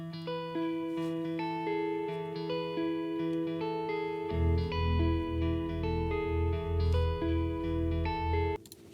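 Electric guitar layered with an electric piano, playing a sustained chordal passage with effects-laden, reverberant tone; a deeper, pulsing low part joins halfway through and the blend cuts off near the end.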